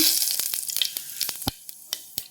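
Cumin and mustard seeds fry in hot oil in a pressure cooker, making a loud, crackling sizzle with sharp popping bursts scattered through it.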